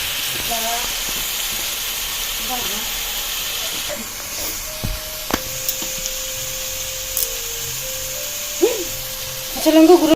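Small hilsa fish sizzle in hot oil with a steady hiss, while occasional clinks, a few brief tones and faint voices sound in the background.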